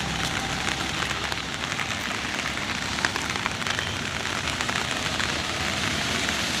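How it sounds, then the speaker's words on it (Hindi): Heavy rain pours down steadily in Agra outside a hotel, a dense, continuous hiss of drops hitting surfaces with no voices. "आगरा में बारिश भाई ज़बरदस्त, रुक ही नहीं रही है बारिश।"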